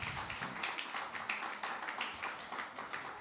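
A church congregation claps for the Lord during a sermon, a soft, fairly distant patter of many hands with uneven, rhythmic bursts and no speech.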